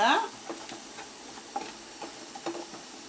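Soft scraping and clinking of a utensil stirring onion rice with salt in a frying pan, in short irregular strokes over a faint sizzle.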